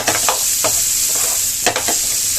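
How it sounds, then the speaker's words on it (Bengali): Chopped onions with a little salt fry in leftover fish-frying oil for a prawn milk curry, a close steady sizzle broken by several sharp scraping stirs of a spatula against the pan. "দিয়ে পেঁয়াজটাকে আমি একটু ভালো করে ভেজে নেব"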